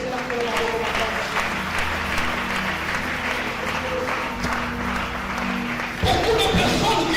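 A church congregation applauds and cheers in praise of the Lord, a steady wash of clapping from a large crowd that carries on throughout and swells near the end.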